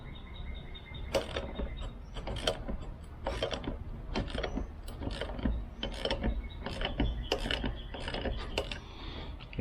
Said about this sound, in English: I went ahead and got the 14 millimeter wrench, and we'll just loosen that up